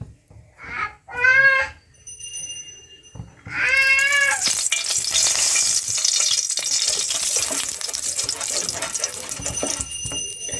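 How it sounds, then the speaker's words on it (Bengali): Hot white cooking oil sizzles and crackles steadily in a wok, loud and close, after a cat meows a couple of times at the start. "এবার আমি কড়াইতে সাদা তেল দেব।"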